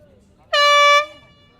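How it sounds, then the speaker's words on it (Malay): An air horn sounds at a school rugby match in Malaysia: one loud, sustained blast of about half a second that cuts off cleanly over quiet background. "Sebelum satu horn dibunyikan"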